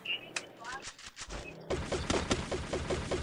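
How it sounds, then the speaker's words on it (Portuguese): Gunfire in a video game, a rapid burst of shots at close range with a few sharp reports before it, all loud and clear in a game session. Voices talk over the shots. "Vocês estão atirando em quem aí, só pra não saber?"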